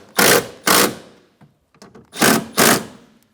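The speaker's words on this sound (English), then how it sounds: "Go around and snug all the bolts down" Bolts on a 2013-2017 Honda Accord front window regulator are snugged down with a ratchet, two pairs of short whirring bursts with light clicks between them, close and alone.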